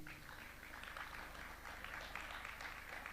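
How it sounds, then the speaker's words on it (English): Audience applauding at a Tanzania-Russia business and investment forum, a steady wash of many hands clapping, sustained and moderately distant, with no voices over it. "a hand of applause, Dr. Tausi Kida."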